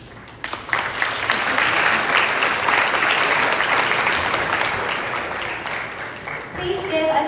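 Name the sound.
applause at gala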